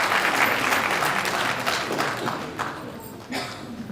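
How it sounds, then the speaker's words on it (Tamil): An audience claps at a Tamil music event, a loud, dense burst of applause that gradually thins out over a few seconds. "கைத்தட்டலாம்"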